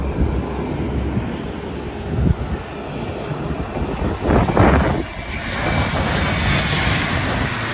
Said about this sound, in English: 1554 from Hobart to Melbourne, 717 2EL. This is a smaller one, as you can see.